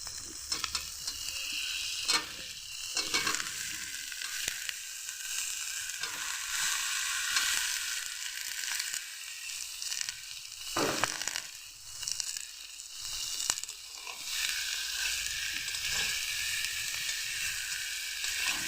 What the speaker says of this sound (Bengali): বেগুন দেওয়ার পরে কপি আলু বেগুন একসঙ্গে মিশিয়ে নিয়ে ভালোভাবে কষিয়ে নেব